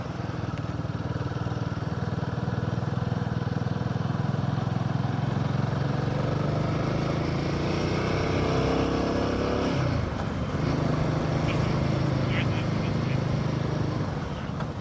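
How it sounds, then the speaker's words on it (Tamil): Vehicle engine and exhaust droning steadily and loud throughout an uphill ride toward Meghamalai, with a low continuous rumble, shifting pitch around the middle as the load changes. "இன்ஜின் சவுண்ட் இங்கே தான், எக்ஸாஸ்ட் சவுண்ட் இங்கே தான் கிளியராக கேட்க முடியுது."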